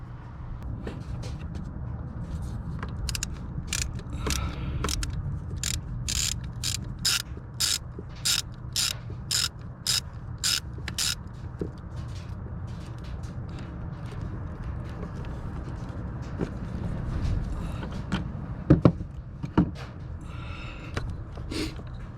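Camshaft position sensor being unscrewed on a 2018 Chrysler Pacifica with an oil leak at its seal: a rapid series of close ratchet clicks in even rhythm, then quieter fiddling and faint mechanical noises.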